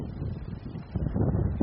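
Wind buffets a microphone high on a mountain at 9,000 feet, a low steady rumble with gusty swells and no voices.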